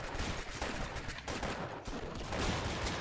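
Rapid, dense automatic gunfire from the Roblox Arsenal shooter game, a continuous loud barrage of overlapping shots with no pause.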